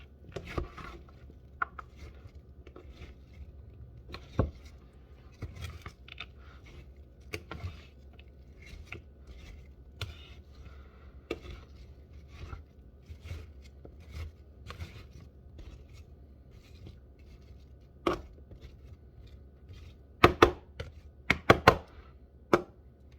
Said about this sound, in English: I'm going to take my tongs and I'm just going to kind of toss the ingredients a little bit more